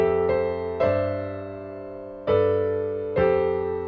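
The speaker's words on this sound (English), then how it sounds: "So the last 4 measures taking the second ending would sound like this." Piano plays the closing four measures of a song's second ending, with four struck chords ringing out and decaying one after another and ending on a sustained chord, heard clearly and alone.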